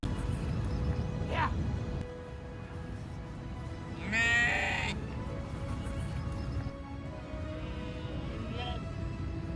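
One brief sheep bleat rises midway through an outdoor Himalayan trek scene. It is moderately loud against steady background noise, with a few fainter sounds around it.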